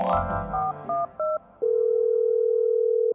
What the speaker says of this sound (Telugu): మీరు మన కాశీ బాబాయ్కి ఫోన్ కొట్టండి.